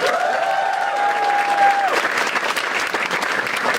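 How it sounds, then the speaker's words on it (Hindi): A studio audience at a Bigg Boss reunion show claps loudly and continuously, the applause building into a dense, crackling burst after a sustained electronic tone fades out. "ताली बजाओ सब लोग"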